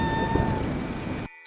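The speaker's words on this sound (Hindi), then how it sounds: "बारिश बहुत तेजी से होने लगी।" Heavy rain pours steadily and loudly over a village, a dense close hiss with no voices, cutting off abruptly near the end into near silence.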